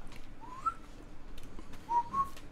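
Whistling in the farming game Farming Simulator 22, a few short faint tones with a rising pitch, the last two close together, heard alone over low background noise.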